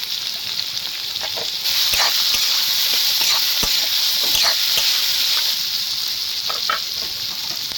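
Potatoes fry with chilli, coriander, cumin and other spice powders in a pan for aloo singara, a continuous close sizzle with a few sharp stirring scrapes and pops.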